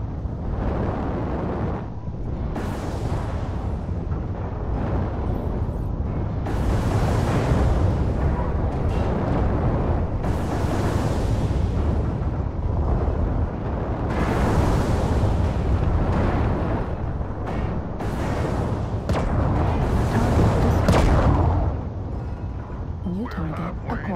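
Artillery strike explosions in a video game, a dense series of loud booming blasts and rumbling bursts rolling one after another with little pause.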